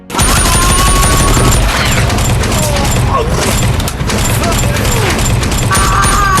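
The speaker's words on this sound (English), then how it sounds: "a Soviet soldier rushed to the pre-positioned general-purpose machine gun and unleashed a furious" A Soviet general-purpose machine gun opens up in a furious, continuous barrage of rapid shots with booming blasts, loud and close throughout, set in a Stalingrad building battle.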